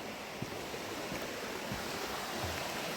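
A river flows under a bridge beside a ford on a countryside walk near Wigan, as a steady broadband rush of moving water with wind-like hiss, constant and fairly near, with no one talking.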